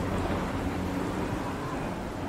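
Heavy rain lashes down in a driving wind storm, a loud, unbroken roaring wash with no pauses across the whole stretch.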